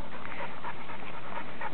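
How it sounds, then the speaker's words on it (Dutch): A small dog pants close by, rapid rhythmic breaths in a steady, even pattern throughout. "Echt wel een leuk hondje."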